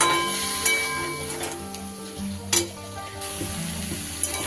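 Vegetarian soybean masala sizzling steadily as it is stir-fried in a pan, with spoon scrapes and knocks against the pan and a few louder bursts, no talking.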